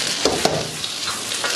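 Onion and capsicum fry in a pan for chilli chicken, a loud close sizzle with a few scraping strokes of a spatula.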